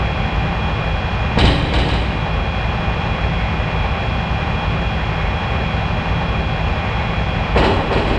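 A JR West 681 series electric train from Densha de Go! Final, limited express Thunderbird heading from Osaka toward Kyoto on the Tokaido Line, runs with a steady loud rolling drone, broken twice by brief clattering bursts.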